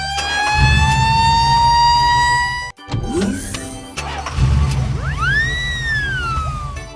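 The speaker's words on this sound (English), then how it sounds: "Fire truck." A fire truck siren sounds loud and close, first as a sustained, slowly rising tone, then breaking into vehicle noise before returning as rising and falling wails.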